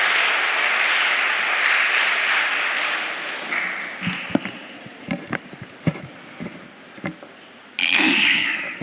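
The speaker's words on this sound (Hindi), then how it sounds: "एक बार जोरदार तालियों के साथ उनका स्वागत करें." An audience applauds at an award ceremony, steady clapping over several seconds that thins into scattered claps, then swells again briefly at the end.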